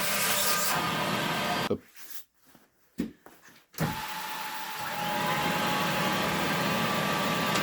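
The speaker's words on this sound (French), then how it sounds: "on crée un passage d'air, et on voit bien qu'il y a du débit. Ça veut dire que la machine aspire bien" The vacuum suction of a Cleanfix RA431 scrubber-dryer runs as a steady loud whooshing hum. It cuts out briefly in the middle with a few clunks, then resumes and holds steady.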